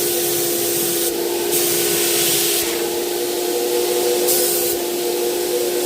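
Rust-Oleum 2x Ultra Cover white primer is sprayed onto furniture, with short hissing bursts over a steady droning motor hum from an electric sprayer, close and fairly loud, with no talking.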